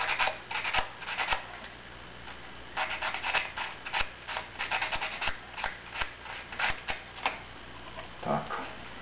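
Sanding a part for an EPA-class aircombat model aircraft wing: repeated short scraping strokes in irregular bursts, close and fairly loud, with pauses between groups of rubs and no talking.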